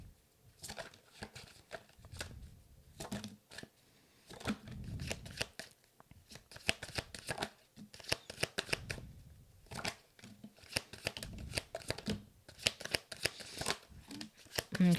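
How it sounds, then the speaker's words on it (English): A tarot deck being shuffled and sorted by hand gives repeated papery riffles and soft slaps in close, busy bursts with brief pauses between them. "A lot of cards were coming out, so I need to sort through this."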